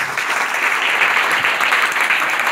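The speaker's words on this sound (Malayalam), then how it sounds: "നല്ലൊരു ക്ലാപ്പ് കൊടുക്കുക." An audience applauds steadily and loudly throughout, a dense continuous clatter of many hands clapping at an organisation's gathering, with no voices standing out.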